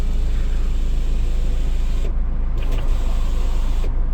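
The electric sunroof motor on a used car being inspected in Germany slowly opens the roof panel. A steady mechanical whir and hum holds for the whole clip, with a faint creak near the end.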